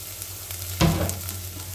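Garlic and onion sauté in a pan for sardines with misua, giving a short burst of sizzling as they hit the hot oil, then a softer, steady fry close by.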